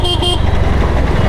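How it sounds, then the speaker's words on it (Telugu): A TVS Ntorq 150 scooter horn gives one loud, close, steady beep of about a third of a second over engine and road noise. "ఈ హార్న్ కొంచెం బెటర్గా చేస్తుంటే బాగుండేది"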